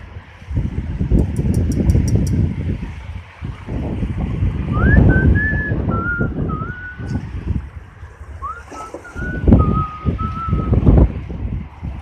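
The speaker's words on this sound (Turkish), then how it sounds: "Boğaz'dan esen rüzgar biraz ılıklaştı rüzgar." Gusty wind off the Bosphorus buffets the microphone with low rumbling surges rising and falling, while a faint high whistling tone drifts through in the middle.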